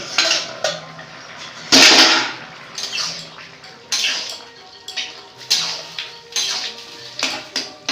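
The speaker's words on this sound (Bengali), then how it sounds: "ঢাকা দিয়ে দিব ঢাকা খুলে দেখবো তরকারিটা হয়ে গেছে কিনা" Metal pot lid set on and lifted off a pan of jackfruit and prawn curry, sharp clanks and scrapes recurring in an uneven rhythm, close and fairly loud, with no talk.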